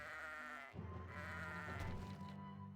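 Cartoon sheep in the tower-defense game Kingdom Rush bleat in a couple of drawn-out, wavering calls, quiet and set over light game background sounds.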